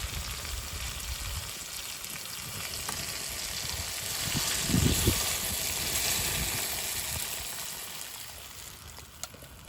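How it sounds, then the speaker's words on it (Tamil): Eggplant frying and being sautéed in a pan for a dried-fish curry, a loud steady sizzle with stirring scrapes throughout and a brief louder burst midway, no talk. "இப்போ வந்து கத்திரிக்காய் போட்டு கொஞ்சம் நல்லா வதக்கிட்டோமா"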